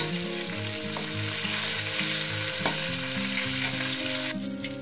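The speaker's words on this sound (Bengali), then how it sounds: "ফুলকপিটাকে ভেজে নিয়েছি, এবার এটাকে তুলে নেব।" Cauliflower frying in hot oil, a steady close sizzle with crackling bubbles and a couple of brief clinks from stirring, continuous throughout without speech.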